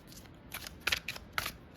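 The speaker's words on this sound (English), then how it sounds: "let's see if we can do one more good riffle shuffle" A deck of tarot cards is riffle shuffled in a few quick crisp bursts of fluttering, snapping card edges, close up in a quiet room.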